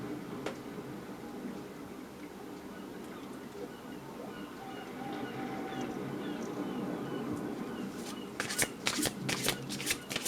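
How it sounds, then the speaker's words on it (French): Oracle cards being shuffled by hand, a soft continuous riffling and sliding of card stock close up, ending in a few sharper snapping flicks. "Un petit mélange"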